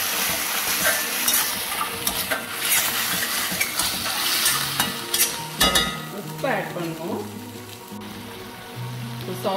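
A tomato sauce mixture is stirred in a frying pan, a steady sizzle with repeated scraping and clinking of a utensil against the pan throughout, fairly loud and close, with brief tonal sounds partway through.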